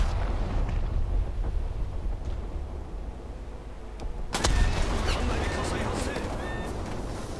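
Naval guns in War Thunder fire at an enemy ship, a single loud sharp blast midway breaking a rumbling engine and water din, followed by a lingering low rumble and scattered metallic clatter.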